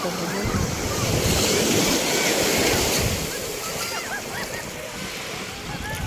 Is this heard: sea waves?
yes